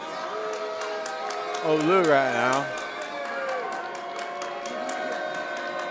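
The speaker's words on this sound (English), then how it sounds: "The crowd's very much into it, trying to get into his head." A high school basketball crowd at Santa Margarita against Orange Lutheran cheers and chants at an opposing player, loud and rhythmic beneath a commentator's voice.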